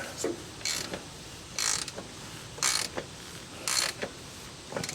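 A socket wrench ratchets in four short bursts of creaky clicking, close and fairly loud, with brief pauses between, while a block heater is tightened into a John Deere 4045T engine block. No voices are heard.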